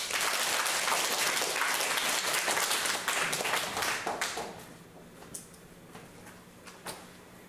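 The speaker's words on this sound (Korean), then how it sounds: "영광의 박수." A church congregation at a Korean Sunday praise service claps loudly and densely for about four seconds, then it thins out to a few scattered claps before falling nearly quiet.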